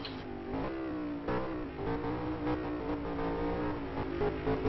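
A GT Masters race car rolls slowly out of its pit box and down the pit lane, its engine giving a steady, fairly loud mechanical drone with slight rises in pitch and no voices.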